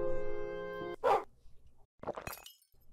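A dog in the Roblox Piggy game lets out a few sharp, close barks after a sustained tonal game sound, with short gaps of quiet between bursts.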